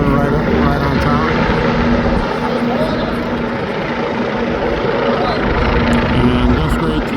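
A helicopter hovers over a littoral navy ship during the Fleet Week parade of ships on the Hudson River in New York City, giving a loud steady rotor and engine drone under continuous talk.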